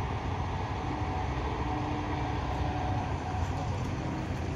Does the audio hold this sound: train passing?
yes